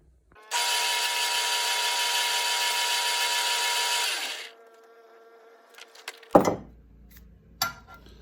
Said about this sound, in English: it was only maybe a minute of sanding and it grinds it all down pretty good